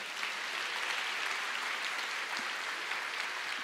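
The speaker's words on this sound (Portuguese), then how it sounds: "Vamos aplaudir ao Senhor." Church congregation applauding together, a steady dense clapping that holds evenly throughout with no voices on top.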